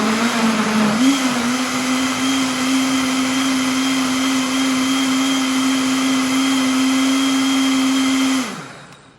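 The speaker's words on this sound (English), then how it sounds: "I think I may have two blender batches left." A blender purees tomatoes for pizza sauce, its motor whining at a steady high pitch after a brief rise at the start, running loud and close for several seconds before winding down at the end.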